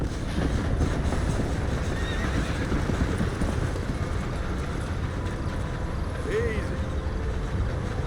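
Horse in the Red Dead Redemption video game neighing briefly over a constant loud bed of hoofbeats and rumbling ambience, with talk mixed in.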